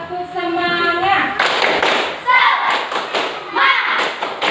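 A classroom group performs a rhythmic spirit clap, loud close bursts of hand claps in patterned groups, mixed with children chanting along.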